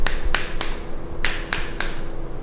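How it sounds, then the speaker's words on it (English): Six crisp finger snaps from a chiropractor during a neurology check, spaced in two groups of three with a short pause between, close and sharp against a faint steady hum. "I'm just gonna snap my fingers."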